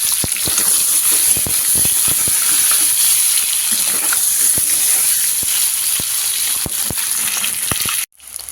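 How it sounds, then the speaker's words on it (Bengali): Eggs fry in a hot pan with a steady, loud sizzle and scattered crackling pops throughout, stopping abruptly near the end. "আর ডিমটা যখন এরকম একটু লাল লাল করে ফ্রাই করা হবে"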